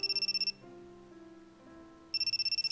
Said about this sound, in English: somebody called my cell phone from a withheld number